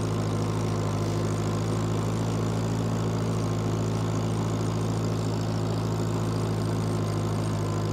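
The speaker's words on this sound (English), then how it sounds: "That's a lot for this tractor." A Farmall Cub tractor engine labors up a steep hill while hauling a huge log with a log arch, a loud steady droning chug at constant pitch, close and unbroken, with no talking.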